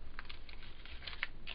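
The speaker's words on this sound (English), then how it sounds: "my Tim Holtz little snips that I love" Small Tim Holtz snips cut through paper backed with plumber's tape, giving a few quiet, crisp clicking snips spaced irregularly over a soft background hiss.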